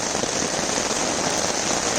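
Heavy rain from a thunderstorm pours down on an island campsite in a dense, constant hiss, loud and close, with no other sounds.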